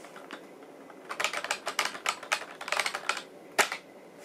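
Fingers tapping out a comment on an iPhone 6s touchscreen keyboard, a run of quick, uneven taps with brief pauses and one sharper tap near the end, close and fairly quiet.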